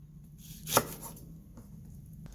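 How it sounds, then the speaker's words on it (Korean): A kitchen knife cuts the stems off washed chili peppers in one sharp, close chop on a cutting board over quiet room tone, with faint clicks of handling afterward. "깨끗하게 씻은 고추는 꼭지를 잘라주시고요."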